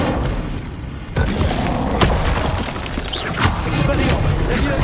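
A fire spell being cast in the video game Hogwarts Legacy gives a sudden whooshing burst with a booming thud, over dense game noise and combat sounds.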